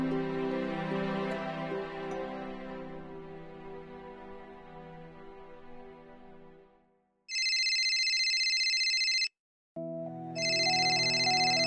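A telephone ringing while a call is placed: fading tonal music gives way to loud electronic ringtone tones in two bursts, separated by a brief silence, with no talking.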